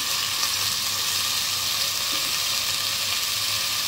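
Spaghetti fries in a pan with soy sauce and chili sauce, giving off a steady, dense sizzle that holds evenly from start to finish, close and fairly loud, with no voices.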